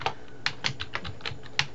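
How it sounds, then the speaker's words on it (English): Computer keyboard typing in short irregular bursts of clicks, close and fairly quiet, with no voices. "I'm going to type my name"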